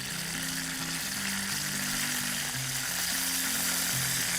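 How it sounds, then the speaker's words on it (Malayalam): Peanuts frying in ghee in a pan for payasam, a steady, close, bright sizzle that continues evenly with no talk, a faint low hum running beneath it. "നമ്മുടെ കപ്പലണ്ടി പരിപ്പ് ഇട്ട് കൊടുക്കാം."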